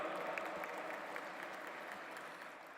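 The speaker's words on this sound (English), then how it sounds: "Please put your hands together and welcome with a big round of applause, Sheikh al-Islam al-Shakur Parzadeh." Audience applause at the G20 Interfaith Summit 2023 at the World Peace Dome, a steady, fairly faint wash of clapping that holds evenly for a few seconds with no talk over it.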